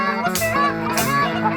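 Geese honk close by during a goose hunt in Wyoming, a cluster of overlapping nasal calls in quick succession.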